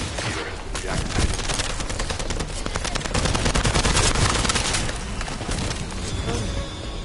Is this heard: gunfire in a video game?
yes